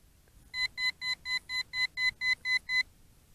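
Holystone HS700E drone controller giving ten evenly spaced electronic beeps in a quick regular run, clear and close against a quiet background.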